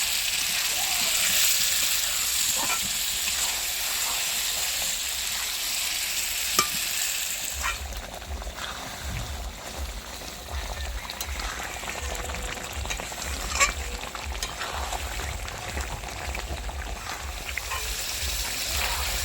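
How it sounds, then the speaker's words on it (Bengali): Mutton sizzling and being stirred in a pan for mutton kosha, a continuous close frying hiss with scraping stirs throughout and a faint voice now and then. "খাসি মাংসটা ভালো করে কষিয়ে নিই"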